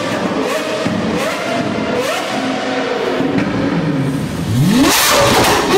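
A Ferrari 458 sports car engine revs loudly and continuously up close, with a sharp rising rev surge near the end and faint popping thuds from the exhaust.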